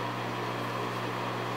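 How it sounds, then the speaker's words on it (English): A bathroom exhaust fan running, a steady low hum with a broad airy hiss, continuous and moderately faint with no talk. "And that noise you hear, by the way, it's the fan in the bathroom here."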